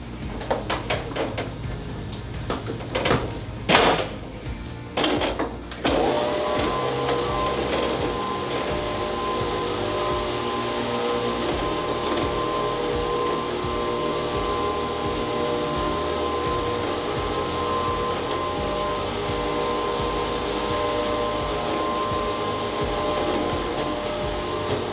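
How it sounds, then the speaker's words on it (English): A floor scrubbing machine fitted with a red pad runs with a steady loud mechanical drone and rumble after a few knocks and clunks as it starts up. "I'm going to put my red pad on my scrubbing machine here,"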